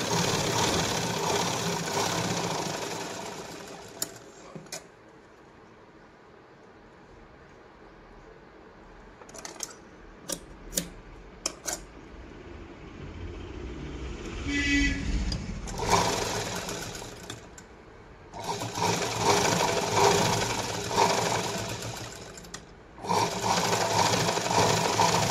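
Domestic sewing machine running bursts of stitching through the lining of a katori blouse, several loud sustained runs separated by pauses filled with faint clicks and handling noise.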